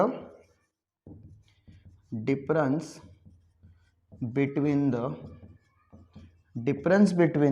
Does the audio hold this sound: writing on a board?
yes